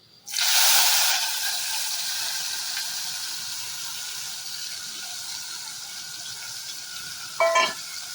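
Spice paste hits hot oil in a pan with a loud burst of frying sizzle that settles into a steady hiss, with a brief clatter of stirring near the end.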